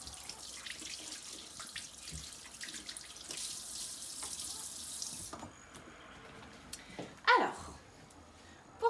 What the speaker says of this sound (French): comme ça on enlève bien tous les microbes, les poignets aussi. Hop, et on rince.